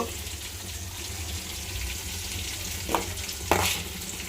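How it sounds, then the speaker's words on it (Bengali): Continuous sizzling of peanuts frying in a pan, with a couple of brief scraping stirs near the end; no talking. "এটা দেখেন বাদাম ভেজে নিতেছি"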